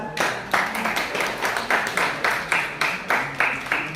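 An audience claps in steady, evenly spaced bursts, about two per second, fairly close and with no talking over it.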